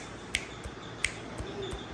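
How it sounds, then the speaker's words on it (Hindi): Sharp finger snaps made to catch a baby's attention, two clear crisp snaps and a few softer ones spaced across a quiet indoor room, no talk. "देखो जिधर चुटकी बजती है ना तो देखती है।"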